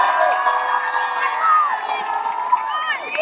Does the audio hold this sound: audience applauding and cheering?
yes